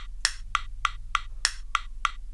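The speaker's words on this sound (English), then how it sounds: "now the metronome will sound like this" Sharp, evenly spaced Cubase metronome clicks at double tempo, eight crisp ticks in a steady row with nothing else around them.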